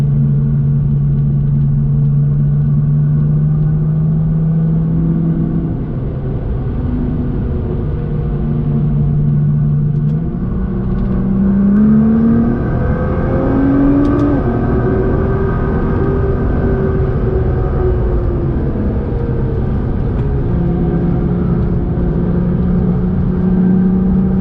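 Nissan GT-R engine on a road drive, a steady low rumble inside the car with slow pitch rises as it accelerates and shifts, continuous and fairly loud with no talking.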